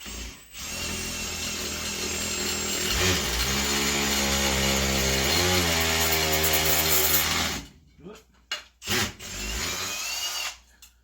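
A power drill bores into masonry for about seven seconds, loud and close with a strained whine that shifts pitch midway, then stops and gives a few short bursts with gaps between them.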